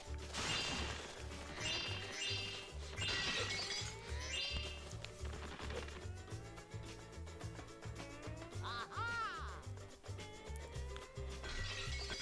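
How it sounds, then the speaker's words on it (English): Repeated crashing and shattering effects from Spyro: Enter the Dragonfly over steady game music, loud and close, recurring through the passage. "For some reason, smashing sound effects."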